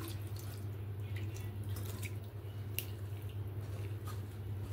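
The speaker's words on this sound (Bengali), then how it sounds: "তো এভাবে হাত দিয়ে ভালো করে ধুয়ে নিয়েছি আমি জল দিয়ে, ঠান্ডা জল দিয়ে।" Chhana is washed by hand in cold water, with soft squelching and quiet dripping and splashing close by over a low steady hum. Nobody speaks.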